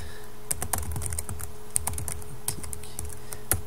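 Rapid typing on a computer keyboard while entering an email address, a quick irregular run of close, crisp key clicks with no speech.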